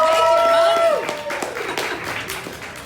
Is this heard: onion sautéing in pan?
no